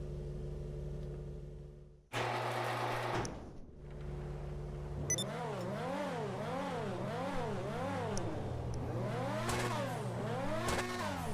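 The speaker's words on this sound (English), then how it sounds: "Yeah, it sounds like a race car because it is a race car." A Progen PR4 open-wheel racing car engine in Grand Theft Auto Online revs hard, its pitch climbing and falling in repeated sweeping waves as it shifts gears, loud and continuous with a brief dip early on.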